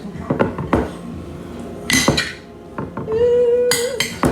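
Shredded potatoes are stirred in a pan at home, giving sharp metallic clinks and scrapes of a utensil against the pan in irregular bursts, followed by a brief steady hum.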